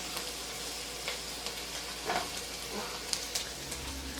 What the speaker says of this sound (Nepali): एकछिन यसलाई यसै गरेर फ्राई गर्दै जाउँ।